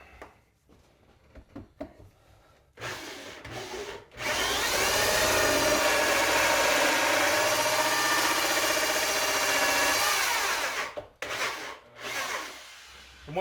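A power drill runs a holesaw into wood at an angle, a loud grinding whir lasting about seven seconds between quieter handling knocks before and after.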